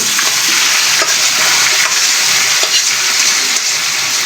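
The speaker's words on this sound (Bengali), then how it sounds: "শাকগুলা দিয়ে একটু নাড়াচাড়া করে নেব" Water spinach greens are stirred and fried in a hot pan, giving a loud, continuous sizzle with scraping strokes of the utensil breaking through it now and then, with no voices.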